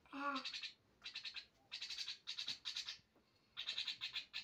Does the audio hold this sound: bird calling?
yes